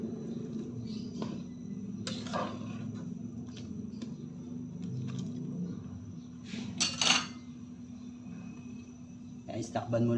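A spoon scrapes and clinks against a pot while macaroni soup (sopas) is stirred, giving soft irregular metallic taps and scrapes over a low steady hum, with a few sharper clinks and a voice speaking now and then.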